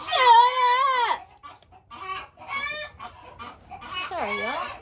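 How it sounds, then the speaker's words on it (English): Chickens cluck and squawk loudly nearby in repeated bursts, with a drawn-out crowing-like call at the start. "Sorry, y'all. They're being loud."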